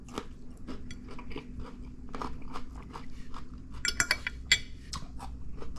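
Someone bites into a piece of cucumber eaten with shrimp, bok choy and lime rice, giving sharp close crunches, with light chewing and the faint clink of cutlery on dishes.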